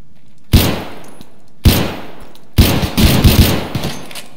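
Video-game gunfire in a battle royale match: three sharp, loud shots spaced apart, the last trailing into a quick rattling burst with echoing tails.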